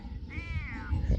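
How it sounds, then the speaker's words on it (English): A pet male cat gives one short, close meow lasting under half a second, followed by soft rustling. "Yes, you are a silly boy kitty."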